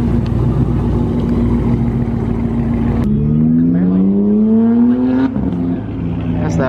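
A car engine revs loudly nearby at a late-night street gathering, pitch climbing steadily, then drops off as it fades and settles.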